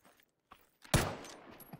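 A single sharp gunshot cracks out in the battle royale game PUBG, loud and sudden, with a short decaying tail, preceded by faint quiet taps and footsteps.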